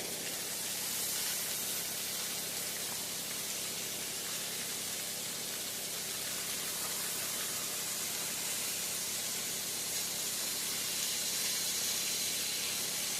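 Diced ham cooking with onions in bacon grease, giving a steady, even sizzling hiss that holds at one level throughout with no talking.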